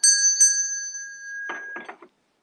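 A singing bowl rings out with clear sustained tones after two soft strikes, the shimmering hum lingering before a few brief knocks and taps end it in silence.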